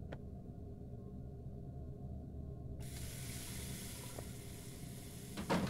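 A bathroom tap in the horror video game Jeff The Killer turns on partway through and then runs as a steady hiss of flowing water over a low ambient hum.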